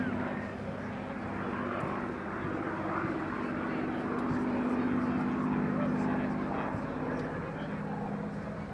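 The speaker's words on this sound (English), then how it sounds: "Comes the Spitfire once more, ladies and gents." A Spitfire at the Daedalus D-Day 80 airshow makes a steady propeller engine drone that swells slightly and stays constant throughout, heard under crowd ambience and commentary.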